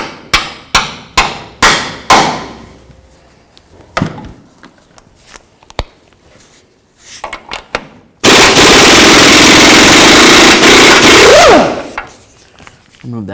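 A 24mm socket removing a nut on the front lower control arm of a 2003-2009 Toyota 4Runner: a run of sharp, loud hammering impacts, then a long, harsh whirring burst of a power tool running close by.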